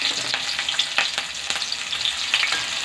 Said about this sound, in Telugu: ఆనియన్స్ కొద్దిగా ఫ్రై అవ్వాలి. ఇదే ఆనియన్స్లో పచ్చిమిర్చి కూడా వేసేసేయండి.